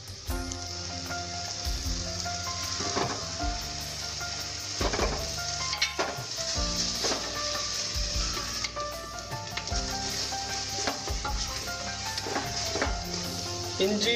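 Ginger garlic paste sautés in a pan for biryani, a loud continuous sizzle close up, broken by repeated scraping and clanking of a spoon against the metal pan throughout.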